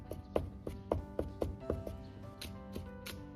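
Crushed garlic and ginger are minced with a kitchen knife on a board, a series of close, sharp chops in an uneven rhythm, about a dozen strikes at moderate volume with no speech.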